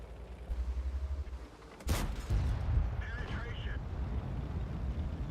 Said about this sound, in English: I did manage to penetrate him with premium shells